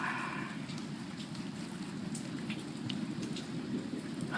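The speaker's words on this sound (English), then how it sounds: "It's just a steady drizzle and all the light show." A steady nighttime drizzle of rain patters continuously during a storm, an even, close hiss of drops with no voices over it.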